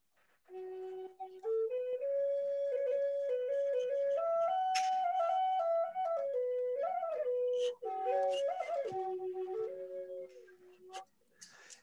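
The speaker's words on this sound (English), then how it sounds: "And this is a Native American flute." A Native American flute plays a slow, breathy melody of sustained, gliding tones with clear overtones, close and alone for about eleven seconds.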